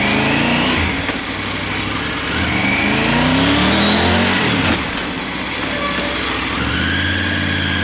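Triumph Tiger 900 Rally Pro motorcycle braking hard, its engine loud and close with falling and shifting revs under strong wind rush as the bike slows.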